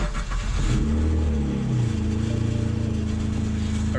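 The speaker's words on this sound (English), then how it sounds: "and I'm gonna start the car." A BMW engine cranks and catches, then settles into a steady, loud idle with a slight rev at the start, heard up close and alone without talk.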